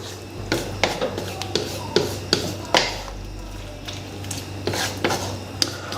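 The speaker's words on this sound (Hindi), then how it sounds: "और साथ ही हम इसको मिक्स कर देते हैं जी ऐसे हल्की आंच पे" Chicken liver (kaleji) with crushed ginger is stirred in a pan over a low flame, making a string of metallic clinks and scrapes from the spoon over a faint sizzle and a low background hum.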